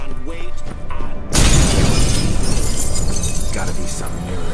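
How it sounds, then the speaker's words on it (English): A mirror shattering in the video game The Witcher 3, a sudden loud crash of breaking glass after a quieter opening, followed by a lingering bright tinkling wash of shards. "Gotta be some mirror here you won't shatter."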